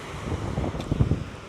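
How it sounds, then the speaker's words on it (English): Ocean waves and wind at a beach in Playa de Las Americas, Tenerife, make a brief, loud broadband rush of surf with wind buffeting close to the microphone, and no one speaks. "just enjoying the wind, the sun, and the waves, and the sound of the waves"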